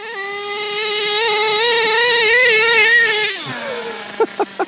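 HPI Savage nitro RC monster truck engine screaming at high revs outdoors on a sunny day, a buzzy whining tone that wavers, then drops sharply to idle, followed by a few quick throttle blips.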